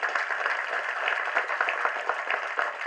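An audience at the Bottle Radha trailer launch event applauds with a steady wash of clapping. The crowd claps continuously, with individual claps standing out close by.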